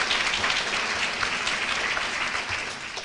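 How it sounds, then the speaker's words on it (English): Steady applause from a crowd at an awards luncheon, dense clapping filling the room at an even level for the whole stretch, fading slightly at the end. "Audience applauds."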